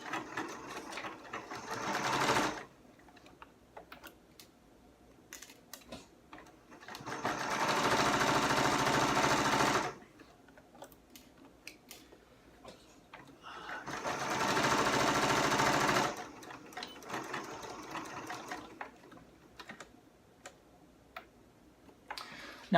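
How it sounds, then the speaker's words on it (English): A sewing machine stitches fabric for a dice bag in two long, loud runs of rapid mechanical ticking, separated by quieter pauses with light handling clicks. "obviously I'm focused on my sewing machine here instead of the camera"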